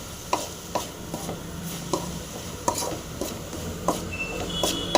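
Spoon or spatula scraping and tapping a pan while ground peanuts are mixed into a drumstick leaf stir-fry, a steady run of light clinks and scrapes at a moderate distance with faint sizzling underneath.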